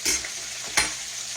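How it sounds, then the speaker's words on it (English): Oil sizzles and crackles steadily as catfish, dill pickles and hush puppies fry, with a couple of sharper pops and a stirring scrape partway through. "he kept frying fish and I kept frying dill pickles and hush puppies"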